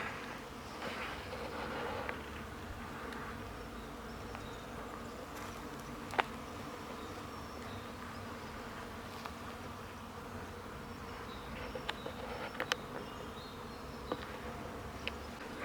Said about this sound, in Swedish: Det är helt fullt med små bin.